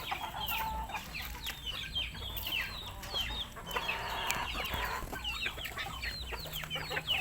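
Chickens, including a Spangle breed, cluck and chatter nonstop, many birds calling over one another close by with quick, busy clucks and soft squawks in a steady farmyard din.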